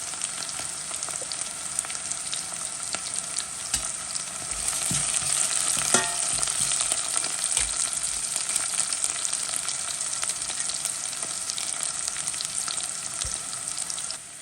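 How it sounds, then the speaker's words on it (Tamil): Ingredients sautéing for Jaffna crab curry, a continuous bright sizzle with occasional stirring scrapes, close and fairly loud throughout, without speech. "இப்பொழுது நல்லா வதங்கி வந்து கொண்டு இருக்குது"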